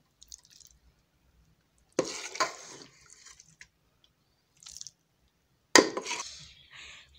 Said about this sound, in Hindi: सालन को हम प्लेट में निकाल लेंगे।